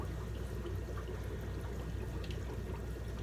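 Aquarium airstone inside a Japanese box filter, bubbling and trickling steadily in water, with a constant soft gurgle and no talking.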